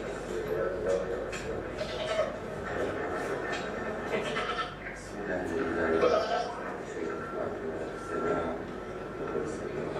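Goats bleat repeatedly, mother goats being brought over and held down on the ground for slaughter, with people talking throughout amid a noisy outdoor crowd.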